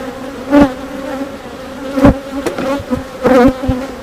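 Honeybees hum steadily around an open hive during an inspection, a close, continuous buzz that swells into louder bursts as individual bees fly near.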